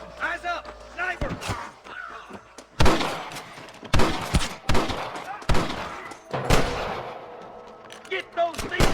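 Sniper rifle shots crack out in a Western shootout in the game Red Dead Redemption on PC, several sharp, loud reports landing at irregular intervals amid shouting voices and the clatter of battle.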